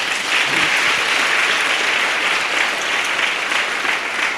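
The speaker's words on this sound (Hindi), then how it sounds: "परमेश्वर के लिए जोरदार ताली बजाएंगे।" Loud, dense applause from a church congregation at a fasting prayer service, steady clapping sustained throughout without a break.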